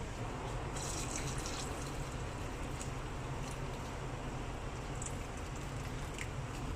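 Curry broth is poured into a wok, giving a steady, continuous watery rush of liquid that runs at even strength throughout, with faint splashy accents and no talking.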